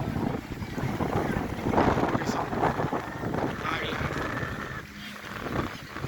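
A tour boat on a trip to Nakkiya Island near Phuket, with a steady wash of water and engine rumble under heavy wind buffeting on the microphone while people talk nearby.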